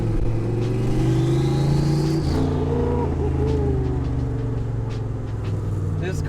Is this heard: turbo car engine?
yes